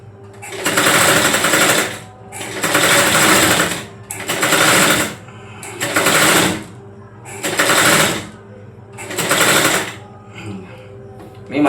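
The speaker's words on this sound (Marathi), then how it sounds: "आपण बघा प्रॉपर गोल गोल शिलाई मारत आलेलो आहोत." An electric sewing machine stitches a blouse in rounded seams, running in six steady bursts of dense, loud whirring separated by brief pauses, close up, with no talking.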